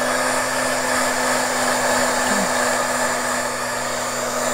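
A hair dryer blows steadily and loudly at close range over paper coated with hairspray, a continuous even whir with a constant hum and no talking.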